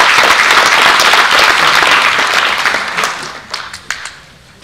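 Applause from an audience at an annual business convention, dense clapping that fills the room, then thins out into a few scattered claps before fading.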